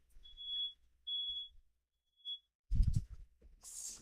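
Electronic beeping during a charity livestream: three high, thin beeps spaced about a second apart in an otherwise quiet room, followed by a few low thumps and a brief hiss.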